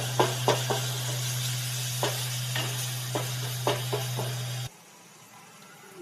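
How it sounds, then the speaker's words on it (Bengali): Ginger garlic paste frying in oil in a pan, a loud continuous sizzle with a low steady hum and several sharp stirring taps and scrapes, cutting off abruptly near the end. "1 চামচ আদা রসুনের পেস্ট দিয়ে ভালো করে কষিয়ে নেব।"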